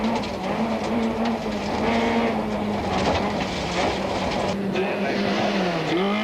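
A rally car at speed on a stage of the 1994 Castrol International Rally, heard from inside the cabin: a loud, sustained engine drone with rising and falling pitch, road rumble and rattling, and commentary speaking over it.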